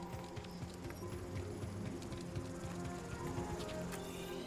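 A horse in Star Wars Jedi: Survivor clip-clops at a steady, even rhythm against a dense ambient game backdrop, heard at moderate loudness for several seconds.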